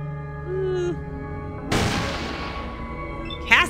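Gunfire in the video game Fallout 2: a single loud shot or blast cuts in midway over a low tonal game background and rings off slowly, with a brief sharp sound near the end.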